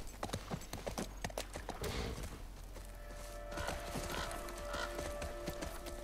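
Horse hooves clip-clop steadily in The Last of Us Part 1 as a sluggish horse walks along, with a brief whinny-like burst and game ambience underneath.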